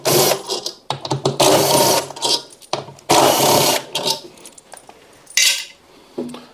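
A power drill whirs in repeated short bursts, undoing the stator bolts on an LG ThinQ washing machine, with metallic clinks between runs, loud and close.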